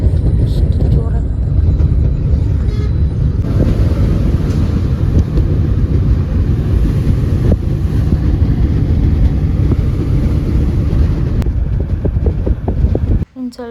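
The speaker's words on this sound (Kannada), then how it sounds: "ಎಷ್ಟು ಜೋರಾಗಿ ಗಾಳಿ ಬರ್ತದೆ," Strong wind roars across the microphone in a loud, continuous rumble at night. The gusting noise stays heavy throughout and breaks off abruptly at the very end.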